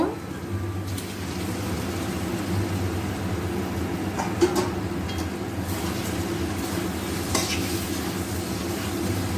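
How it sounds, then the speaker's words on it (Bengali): Eggs go into a pan of sizzling fried spice masala for an egg korma, a steady close frying hiss with occasional stirring scrapes and small clicks throughout, no talking. "যে মশলাটা কষানো হয়ে গেছে এখন এই ডিমগুলো দিয়ে দেবো"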